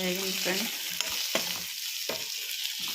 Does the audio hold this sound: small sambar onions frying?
yes